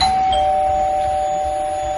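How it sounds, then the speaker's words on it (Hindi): A doorbell rings with a steady, bright electronic tone that holds for about two seconds over a faint background hum. "कुछ देर के बाद ही दरवाजे की घंटी बजी।"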